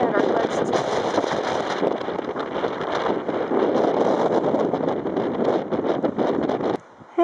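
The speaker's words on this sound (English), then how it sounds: "we stopped here because a wind gust is coming" Strong wind gusts buffet the microphone on a mountain climb up Mount Ajo in the Sierra de Ajo, Organ Pipe Cactus National Monument, Arizona, a loud roaring rumble that surges and eases before cutting out near the end.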